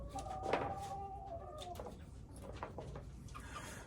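Chickens in an outdoor coop lit by white lights give a few soft clucks and calls, quiet against a steady low background hum, with one brighter call near the start.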